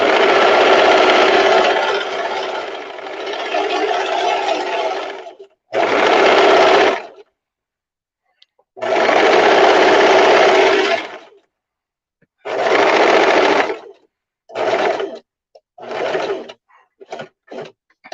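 A sewing machine runs gathering stitches along a skirt in repeated loud, close bursts, long runs at first and then increasingly short stop-start spurts separated by silence.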